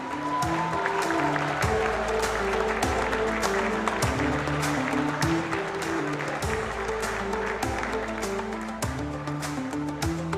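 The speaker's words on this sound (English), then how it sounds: "Let's have the biggest round of applause for these two." Audience applause for two young squash finalists, one Pakistani and one Egyptian, at the WSF Under-23 World Championships finals, steady dense clapping over a sustained musical backing with a strong low beat throughout.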